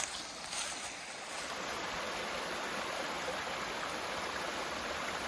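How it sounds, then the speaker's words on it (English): A creek flows in a steady broadband rush of water, fairly faint and continuous, with no voices over it. "we got this creek down here"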